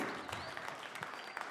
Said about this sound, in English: Give it up for Montana Network UID, David Alexiv.